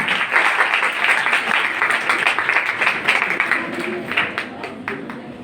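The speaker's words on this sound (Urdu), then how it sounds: "بہت سی تالیوں میں استقبال کیجیے گا پروفیسر شہلا یوسف صاحبہ۔" Audience applause at a Quaid Day 2023 event in a women's college hall in Karachi, a steady wash of many hands clapping that swells early and thins toward the end.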